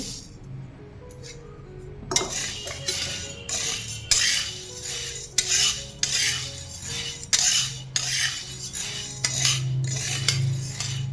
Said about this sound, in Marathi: आता इथं आपण शाबू भाजून घेऊया